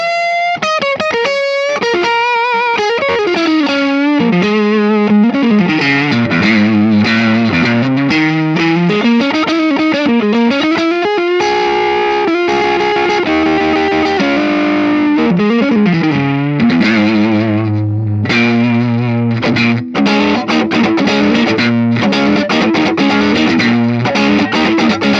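An electric guitar runs through an Ibanez TS9 Tube Screamer overdrive, modded toward a Vox AC30 voicing, with the gain fully cranked, playing a long, continuous, heavily distorted melodic phrase with bends, loud and close.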